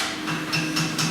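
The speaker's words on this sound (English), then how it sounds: "So I've hammered that in" Hammer blows drive a bush into a part of a mini steam engine, four or five quick metallic taps at an even rhythm against steady background noise.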